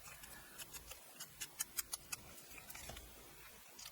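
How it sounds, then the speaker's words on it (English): Scissors snip a paper piece in a run of small, crisp cuts, quiet and close, with the clicks bunching into a quick sequence midway through. "So I'll just fussy cut one of those out."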